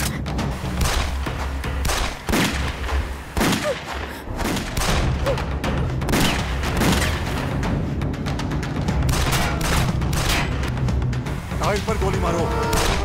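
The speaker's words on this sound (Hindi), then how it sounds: "गोली चला उन पर।" Rapid bursts of gunfire crack repeatedly amid booming thuds and shouted voices, loud and chaotic throughout.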